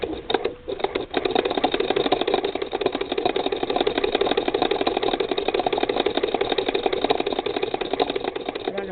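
Hand-crank Model 20 sewing machine stitching through a single layer for embroidery, a continuous even mechanical whirring and rapid clatter after a brief start, close and fairly loud with no talking.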